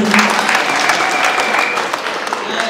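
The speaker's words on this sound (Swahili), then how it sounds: "Tupige makofi." A church congregation in Kisii, Kenya applauding at a student awards ceremony, a loud sustained wash of many hands clapping close by, with crowd voices mixed in throughout.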